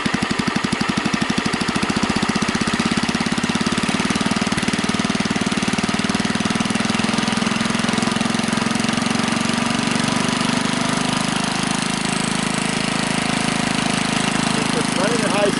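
A Husky engine runs steadily at high speed, out of gear. A rough, sputtering start in the first two seconds settles into a loud, constant drone that holds close and unbroken to the end.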